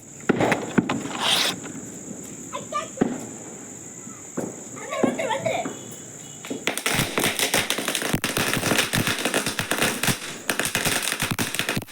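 Diwali firecrackers burst in rapid strings of sharp cracks, starting with scattered pops and ending in a dense, loud continuous crackle, with people talking during the quieter stretch and a high steady tone running through the first half.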